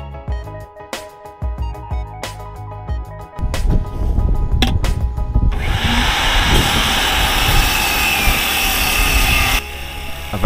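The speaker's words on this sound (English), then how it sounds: "I've actually got the wrong blade in the saw at this point. What I have is a finish cut blade." A power saw fitted with a finish cut blade notches a wooden deck post for double 2x10 beams, first with several sharp start-up bursts and short cuts, then a loud sustained whining cut lasting several seconds before the blade winds down.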